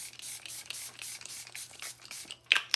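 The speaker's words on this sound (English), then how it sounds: "let's spray our face" Face setting spray misted onto a face, heard as a string of soft, breathy hissing bursts, with a sharper, louder spritz near the end.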